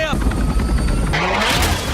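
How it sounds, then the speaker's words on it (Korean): A helicopter comes under attack in a film scene, with a dense, loud roar of rotor and engine noise and rapid bursts of gunfire throughout. Voices mix into the din. "그런데 헬기가 공격당해버리고"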